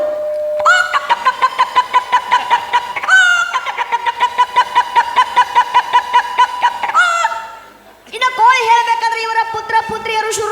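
Someone mimics a hen, producing loud, rapid rhythmic clucks in long runs with brief breaks, ending in a higher cackling burst.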